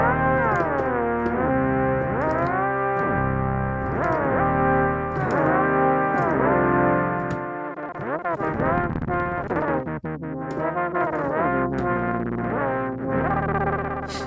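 An MPC3 keygroup synth patch plays sustained, heavily effected tones with smooth portamento glides between notes and no quantize stepping; the sound is loud, continuous and layered with distortion and echo, with no voices.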